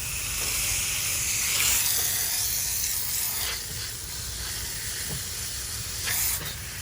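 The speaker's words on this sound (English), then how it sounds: "I always like to rinse off underneath the condensers after I get done" Steady broadband hiss of a water hose spraying and rinsing debris off the concrete pad beneath a mini split air conditioner condenser unit, continuous and fairly close, with slight surges in flow and no talking.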